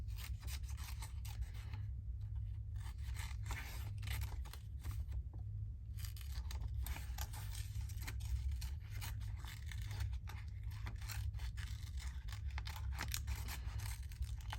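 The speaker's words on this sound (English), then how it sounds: "I'm just going to do a quick whiz cut." Scissors make a quick cut through paper ephemera, giving a faint, rasping, steady snipping close by against low background hum, with a couple of brief pauses and no talking.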